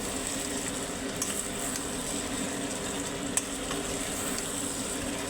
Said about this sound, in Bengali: নাড়তে থাকবেন না হলে কড়াইতে লেগে যাওয়ার সম্ভাবনা থাকে